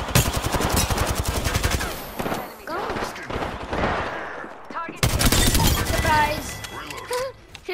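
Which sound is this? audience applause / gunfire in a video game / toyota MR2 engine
gunfire in a video game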